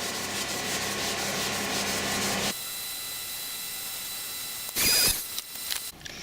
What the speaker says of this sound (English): I'm going to apply this by hand, just rubbing in.